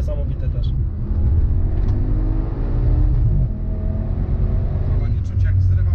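A 1040 HP Audi RS6 R with quattro drive accelerates hard, its engine droning and rising in pitch continuously, with a person talking over it.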